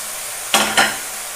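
Taro greens tipped into a pan with fish head: two quick, bright bursts of sizzle and rustle as the leaves hit the hot pan, close and loud against a quiet background, with no talk.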